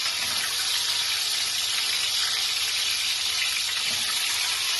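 Salted, turmeric-coated phasa fish dropping into hot oil, giving a loud, steady broadband frying hiss that runs unbroken from start to finish.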